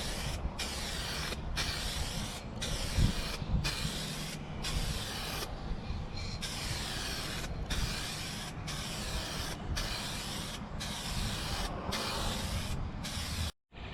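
Birch white paint sprayed onto a sanded motorcycle tour pack in long continuous bursts with brief gaps between passes, a steady close hiss filling the recording.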